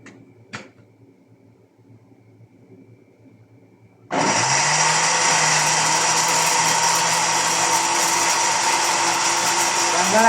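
An electric blender whirs into a loud, steady roar after about four seconds of quiet room noise and a single knock, blending pomegranate juice with a little water.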